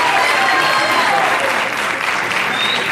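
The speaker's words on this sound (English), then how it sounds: "If we could give her a round of applause." Sustained audience applause in a hall at a school winter and spring sports awards ceremony, a dense, loud wash of clapping holding steady throughout with a faint murmur of voices mixed in.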